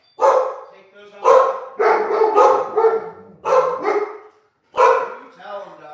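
A dog gives six or so sharp, yelping barks in quick irregular bursts, loud and close, with short pauses between them.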